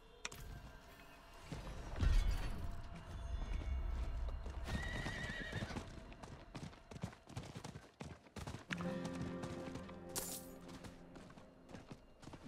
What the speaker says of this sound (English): You notice that you can actually sprint in the towns now? With the horse?